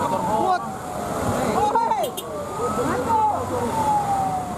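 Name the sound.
fire truck siren during disinfectant spraying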